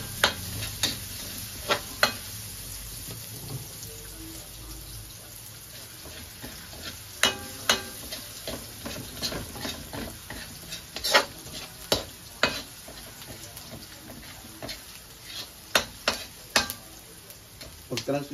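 Onion and ginger sauté in hot oil in a pan while being stirred, giving a soft steady sizzle broken by sharp, irregular scrapes and taps of the utensil against the pan.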